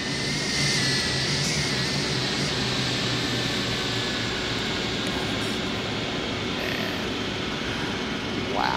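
A propeller aircraft engine idles outside the plane in the X-Plane flight simulator, a steady loud drone with a constant humming tone that holds unchanged throughout, no talking.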